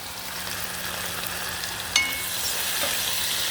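Ginger and garlic frying in hot oil for a tilapia and eggplant curry: a steady, close sizzle throughout, broken by one sharp utensil clink against the pan midway.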